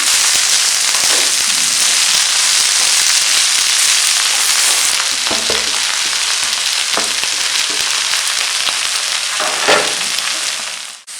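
Mint and omavalli leaves sauté in a hot pan, producing a loud, continuous crackling sizzle close by, broken by a few scraping stirs and knocks toward the end.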